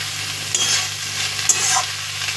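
Yard-long beans and pumpkin frying in a pan sizzle steadily up close, with two brief scraping stirs of a spatula.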